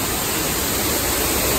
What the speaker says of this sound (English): I did promise everyone an 80-foot tall waterfall.